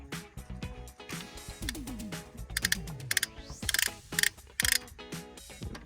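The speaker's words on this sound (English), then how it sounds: "we'll just use a torque wrench for" A torque wrench clicks and ratchets while tightening a bolt during a timing chain job on a 2010–2011 Ford Fusion 3.5L V6, with close, irregular mechanical clicks and metallic taps, including a few sharper bursts near the end.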